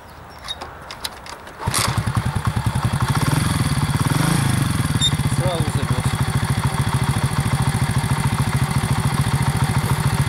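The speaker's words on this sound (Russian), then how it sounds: "Мопед еще холодный, поэтому он еще так активно не работает." A 13-year-old Delta moped engine, still cold in winter, fires up after a few faint knocks and settles into a loud, fast, rattling two-stroke putter that runs steadily up close.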